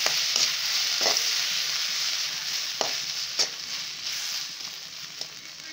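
Onion, chilli powder and cashew paste sauté in a hot pan for white channa bonda, giving a steady, close, bright sizzle with occasional stirring scrapes and clicks.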